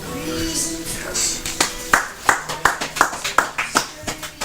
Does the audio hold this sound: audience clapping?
yes